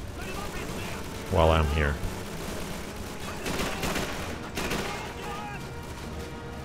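Machine gun fire crackles in Call of Duty 3 on PS3, with several rapid bursts and booms spread across the scene, partly under someone speaking.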